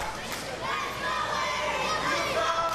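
Wrestling arena crowd rallying behind Showtime Eric Young, a dense steady roar of cheering and chatter from a large audience, with a commentator talking over it.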